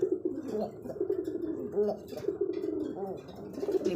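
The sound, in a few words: male pigeon cooing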